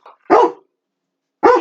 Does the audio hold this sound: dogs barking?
yes